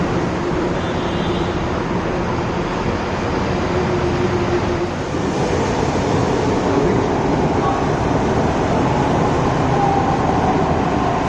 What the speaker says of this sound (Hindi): तो मेट्रो आ चुकी है।